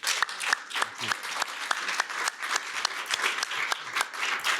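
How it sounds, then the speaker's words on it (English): A conference audience at CPAC 2020 gives a panel a steady round of applause, many hands clapping densely and continuously throughout at moderate volume, with no voices over it. "So why don't we give these guys a little round of applause?"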